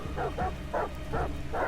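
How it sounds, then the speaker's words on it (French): Dogs barking in a video game, set in a club: a run of repeated barks, several in quick succession over a steady background hum. "On a les chiens."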